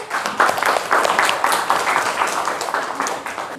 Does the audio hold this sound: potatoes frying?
no